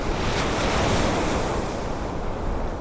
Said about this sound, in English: Nous commençons à traverser le passage de Drake.